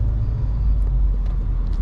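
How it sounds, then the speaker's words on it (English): Steady low road rumble of cars in bad, accident-heavy traffic, a dense continuous drone with no distinct pass-bys standing out, loud throughout with no voices. "Traffic here is really bad."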